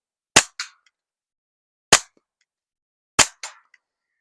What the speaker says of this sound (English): the pistol is functioning great with that CCI standard velocity, which is why I like to run it with my suppressed pistols